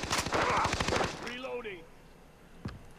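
Rapid automatic gunfire in the Far Cry 3 video game, a loud burst of closely spaced shots in the first second, then quieter game sounds and a single sharp later shot, with a voice talking over it.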